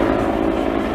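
Helicopter flying over a coastal holiday area in Çıralı, Antalya, a loud, steady rotor roar filling the whole brief moment with no talk.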